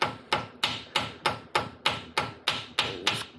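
A Dodge AAM axle pinion seal being tapped into its bore with a hammer, sounding as a steady run of about ten sharp, ringing metallic knocks at an even rhythm, close and alone.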